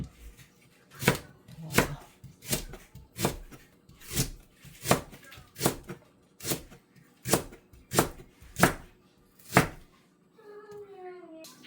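A knife chops leek for kimchi stew on a board in about a dozen evenly spaced, crisp thuds, close and clear; the chopping stops near the end, followed by a brief faint tonal sound.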